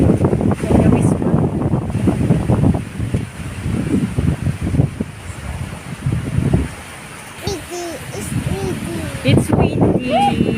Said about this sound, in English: Look at the wind! So windy.